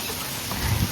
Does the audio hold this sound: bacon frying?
no